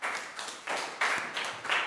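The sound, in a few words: children clapping their hands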